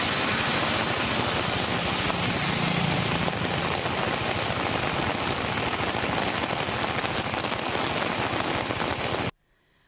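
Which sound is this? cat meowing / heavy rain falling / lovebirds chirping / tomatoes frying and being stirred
heavy rain falling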